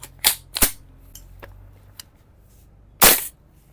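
VFC gas blowback airsoft rifle, an HK416D, SR16 or M723 type, firing a few sharp single shots at uneven intervals, two quick cracks near the start and a louder one later, with a couple of fainter clicks between them and no talking.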